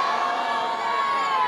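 A crowd at a Quran recitation competition roars back in answer to a takbir call, a dense, steady wall of many voices shouting together with no gaps.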